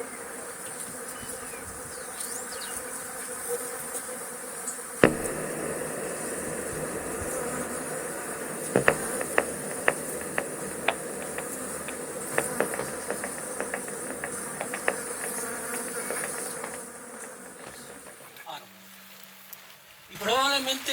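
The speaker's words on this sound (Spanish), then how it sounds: "un montón de abejas rodeando todas estas flores y creando un zumbido de forma natural" A crowd of bees buzzing around flowers outdoors, a steady close drone with scattered clicks that carries on for about twenty seconds.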